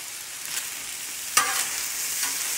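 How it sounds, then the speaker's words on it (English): Hamburger meat and squash sizzling in a frying pan as they are stirred, a constant close hiss broken by a sharp scrape of the spatula midway and a softer one near the end. "Now we're just going to mix it around with that hamburger meat and squash."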